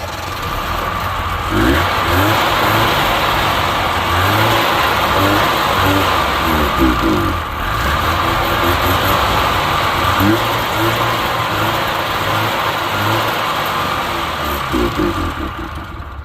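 A Subaru 360 two-stroke engine runs rough and uneven, its rapid buzzy note rising in short revs and dropping back toward a ragged idle, loud and close throughout.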